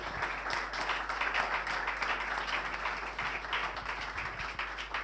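Audience applause welcoming a speaker to the stage at a public talk on inequality in Chile, a steady, moderately loud wash of clapping sustained for about five seconds with no voices over it.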